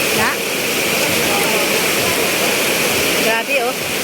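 Strong rushing floodwater surging like waves through a relocation area, a loud, steady broadband roar filling the whole stretch, with brief faint voices near the start and again toward the end.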